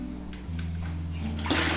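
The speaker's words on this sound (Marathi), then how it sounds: "हा बघा नळ" Tap water runs steadily into a bathroom washbasin, a continuous close hiss that grows louder and brighter near the end as the flow increases, with no talking.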